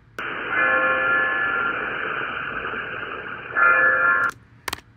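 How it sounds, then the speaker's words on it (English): Audio with its upper frequencies removed plays back with a thin, band-limited, walkie-talkie-like tone, running steadily for about four seconds with a louder swell near the end, then cutting off into a few brief clicks. "maybe I just delete the entire upper frequency, and I can play it, and it'll sound like this."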